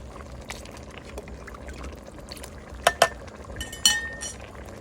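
Fermented fish sauce poured into a bubbling curry pot while cooking outdoors, a low liquid trickle under background ambience, then a couple of sharp clinks of a spoon or glass against the container.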